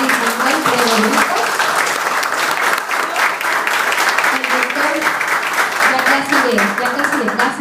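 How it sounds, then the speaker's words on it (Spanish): An audience gives the presenters at a 2019 forum on energy reform and social property a sustained, dense round of applause that lasts throughout, with a voice talking over the clapping. "les voy a pedir un fuerte aplauso para los presentadores"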